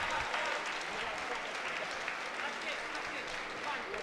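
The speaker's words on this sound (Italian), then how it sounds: "Infatti, mega applauso." Crowd applause fills an MMA event venue at Venator FC 8, a steady wash of clapping heard faintly under commentators talking throughout.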